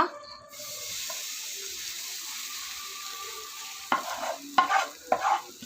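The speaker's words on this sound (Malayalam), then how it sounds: "അതിനുശേഷം നമ്മൾ ഉണ്ടാക്കിയിരിക്കുന്ന മിക്സ് ഒരു ദോശക്കല്ലിൽ ഒഴിച്ചു കൊടുക്കുക." Egg pizza batter poured onto a hot dosa griddle hisses in a steady sizzle, followed by a few sharp scraping strokes of a spatula near the end, close and fairly quiet with no speech.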